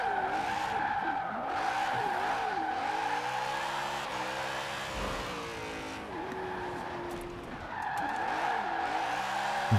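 Continuous tire squeal and skidding from a 900-horsepower BMW M3 GTR oversteering in Forza Horizon 4, with the wavering pitch of the engine running underneath for the whole stretch, loud and close.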